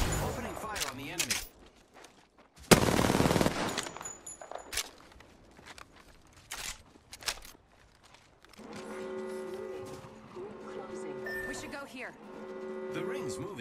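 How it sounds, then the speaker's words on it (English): Gunfire from weapons in the Apex Legends video game on the World's Edge map comes in short, sharp bursts with one loud volley, mixed with game effects and a synthetic announcer voice. "Opening fire on the enemy."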